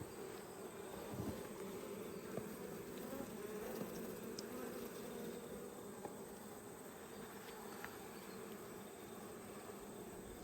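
Honey bees around an open nucleus hive in an Australian apiary make a soft, steady, unbroken buzzing hum that stays faint and even throughout, with no talk.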